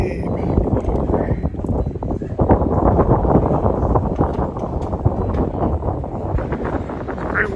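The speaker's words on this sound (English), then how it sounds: "Very windy up here." Strong wind buffets the microphone on the open upper deck of a cruise ship in the Mediterranean near Santorini, a steady loud rumbling roar with gusty swells and no pauses.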